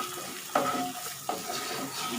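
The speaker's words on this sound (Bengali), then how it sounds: "মশলাগুলোকে আবার খুব ভালোভাবে নেড়ে চেড়ে নিচ্ছি।" Spices being stirred in a hot pan after the hilsa fish has been lifted out, giving a steady low sizzle with two brief scraping strokes of the spoon, close by and alone.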